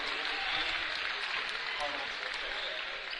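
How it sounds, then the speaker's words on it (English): Hamilton fans applaud during a basketball game, a steady wash of clapping and crowd noise filling the gym at moderate loudness without a break. "Applause coming from the Hamilton fans"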